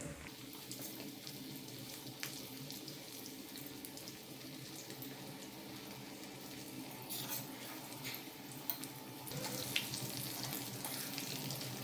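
Steady, dense sizzling of chicken 65 pieces deep frying in hot oil, a continuous crackling hiss with occasional small pops and clinks.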